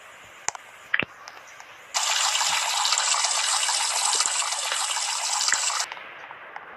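A shower runs for a bath: after a few faint knocks, a steady hissing spray of water starts abruptly, flows for about four seconds and then cuts off.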